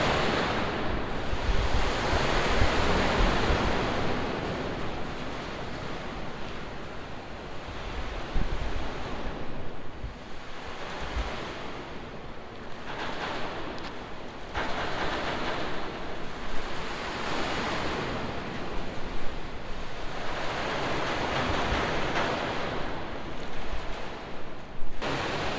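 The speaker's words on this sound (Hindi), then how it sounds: "शोर इतना ज़्यादा है पानी का, और ये पानी जो टकरा रहा है इस जहाज़ से" Sea water surges and crashes against a ship's hull at a ship breaking yard, a continuous loud roar of rushing water with rhythmic swells rising and falling, heard alone without talk.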